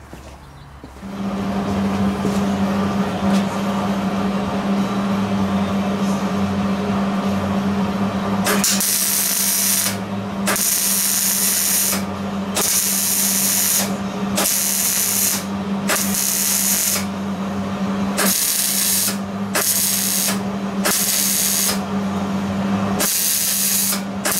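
A power tool cutting up an exhaust downpipe, with a loud steady motor drone at first, then a series of harsh, bright bursts of cutting that start and stop repeatedly, close up and alone without speech.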